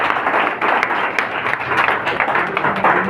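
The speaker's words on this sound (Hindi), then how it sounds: "थोड़ा ताली बजा दीजिए उनके लिए।" A class of students claps together for a classmate who gave a correct answer, dense, steady clapping filling a few seconds at close range with no voices over it.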